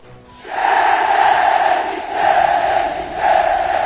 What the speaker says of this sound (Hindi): भीड़ चिल्ला उठी।